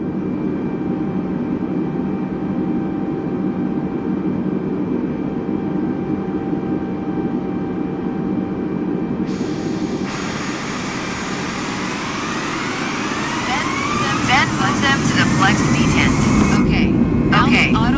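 Airliner engines in Microsoft Flight Simulator spool up from a steady drone into a rising, layered whine that grows louder toward the end, with a voice talking over it.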